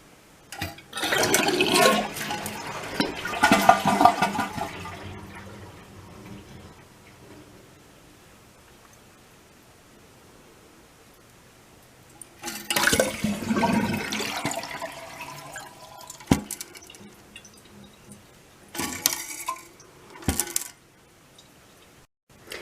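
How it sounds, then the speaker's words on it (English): A household toilet with a running-water fault is flushed, and a loud rushing gush of water drains from the bowl. Quieter gurgles and refill splashes follow in bursts, with long near-silent pauses between them. "you flush the toilet and then remove the excess water from the tank"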